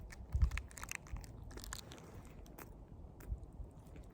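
Close, wet chewing of a mouthful of block cheese and chicken apple sausage, with crunchy bites and squishy mastication repeating irregularly and a few louder bites near the start, no talking.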